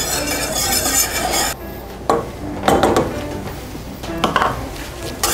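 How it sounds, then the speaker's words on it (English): A whisk works a butter-and-flour roux with Parmesan cheese in a pan, giving loud close metallic scraping and clatter in uneven bursts with short pauses and no talking. "I'm gonna add some Parmesan cheese to it. Just a pinch. That's all I need, and I'm gonna whisk it"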